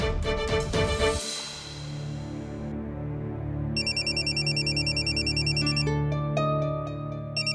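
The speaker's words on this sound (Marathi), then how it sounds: "प्राचीचा फोन" A phone rings with a bright electronic ringtone, looping melodic tones that repeat steadily over a low background hum in a dramatic TV serial scene, close and fairly loud with no talking.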